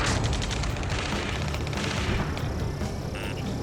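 Dense gunfire and booming blasts roll through an Ace Combat 7 battle scene, loud and continuous, a thick wash of shots and explosions with no clear gaps.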